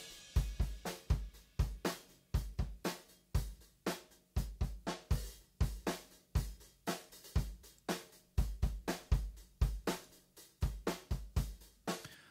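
Drum kit heard only through the room microphones, a steady beat of boomy kick and snare hits with roomy ambience and heavy low end, continuous and fairly loud, without talk.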